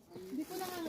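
A native goat bleats nearby in one drawn-out, wavering cry that lasts about a second, loud and clear with no talk over it.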